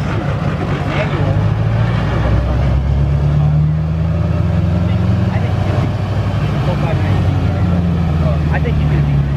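A diesel truck with a GS6 manual transmission runs on a dyno, its engine droning loud and steady throughout with deep rumbling tones, while people talk over it.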